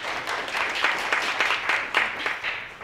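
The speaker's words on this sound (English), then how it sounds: "Round of applause, please." A small audience at a roundtable panel event applauds, a steady moderate patter of many hands clapping close by for about three seconds.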